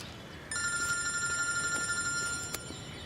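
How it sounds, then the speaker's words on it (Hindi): An incoming call sets a phone ringing with a steady electronic ringtone tone that starts abruptly and continues loud and close for a few seconds, with no talking over it. "तारा का कॉल।"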